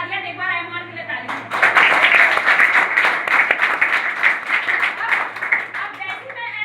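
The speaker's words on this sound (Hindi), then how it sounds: "एक बार एमआर के लिए ताली" Applause breaks out at a gathering in Bodla, Chhattisgarh, following a man's speech, then continues as a dense, lively clatter of many hands for several seconds.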